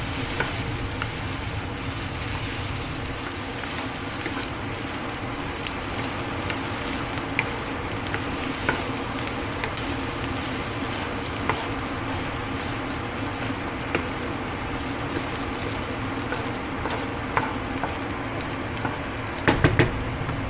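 Onion stirred and fried in a pan, a steady close sizzle running throughout with scattered scraping and clinking of the utensil, a few louder knocks at the end.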